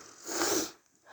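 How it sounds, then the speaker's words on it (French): A person gives one close, breathy sniffle that swells and fades over about half a second, followed by quiet. "je sais que ça peut être agaçant d'entendre quelqu'un renifler toutes les 3 secondes"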